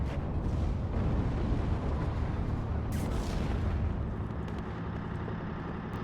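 Tank and unit weapons fire in the WARNO war game, a heavy rumbling barrage of booms and blasts with one sharp crack near the middle, loud and continuous for six seconds.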